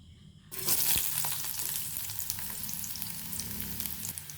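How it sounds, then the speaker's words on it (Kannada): Chopped onions hit hot oil in a kadai while cooking Maggi, bursting into a loud, steady sizzle that continues close up after a quiet start. "ಇದು ಎಣ್ಣೆ ಬಿಸಿ ಆದ ನಂತರ ನಾನು ಇದಕ್ಕೆ ಈರುಳ್ಳಿಯನ್ನು ಸೇರಿಸ್ಕೊಳ್ತೇನೆ"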